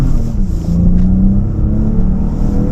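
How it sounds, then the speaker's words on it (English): A 2019 Toyota Avalon Touring accelerates at full throttle out of a right-hand turn, its engine droning loud and close with a rising pitch, no talk over it. "Alright, so let's try a right-hand turn. Full throttle."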